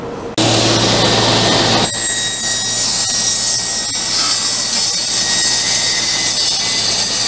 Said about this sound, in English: I need to cut this dado out